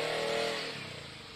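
A motorcycle engine running in a parking lot, a steady fairly loud hum that eases slightly in pitch and level over a short moment, with no voices.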